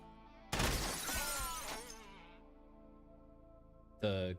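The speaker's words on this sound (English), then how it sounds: "The glass breaking sound is so good in this game." Glass shatters loudly in the video game Quasimorph, a sharp crash followed by ringing shards that fade into a reverberant tail, then another brief burst of breaking near the end.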